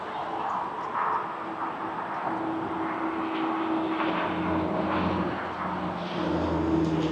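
An airliner takes off at Toronto Pearson airport (YYZ), a steady broad jet engine roar held at close range throughout, with a low tonal drone and faint background noise.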